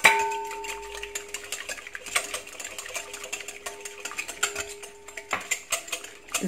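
A whisk clatters rhythmically against a bowl of eggs, in quick, regular metallic taps, close and fairly loud, with a faint steady tone underneath and no talking.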